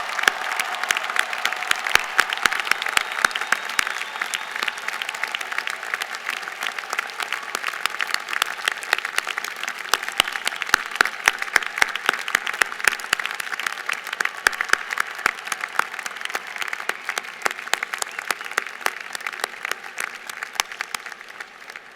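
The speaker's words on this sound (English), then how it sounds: "turn around, and applaud your family and friends who have been here and supported you through your studies" Sustained applause from a graduating class at The New School's 2017 commencement ceremony, honoring family and friends; dense, steady clapping from a large crowd fills the hall for over twenty seconds with no speech over it.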